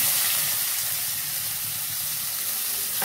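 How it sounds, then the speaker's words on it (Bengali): White cumin seeds and garam masala sizzle steadily in hot oil, a loud, close, continuous frying hiss with no talking over it. "এবার আমি একে একে সাদা জিরে একটু ফোড়ন দিয়ে নিচ্ছি, একটু গরম মশলা"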